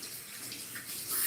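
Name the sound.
rinsing hands under running tap water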